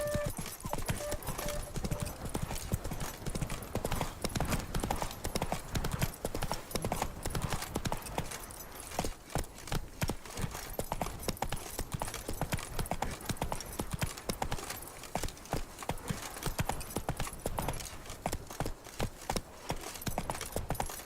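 In The Witcher 3 video game, a horse's hooves clip-clop steadily and quickly through a continuous ride, with brisk rhythmic thuds mixed with game ambience and brief speech.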